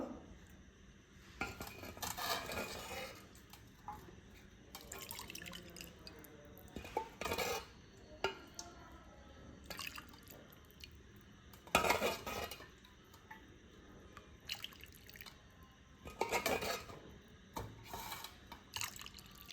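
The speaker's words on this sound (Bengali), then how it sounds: "দুধটা এখন একটা বাটির মধ্যে নিয়ে নেব।" Thickened milk is poured into a bowl for lachha semai while utensils clink and scrape against dishes in sparse, sharp bursts over a quiet kitchen background.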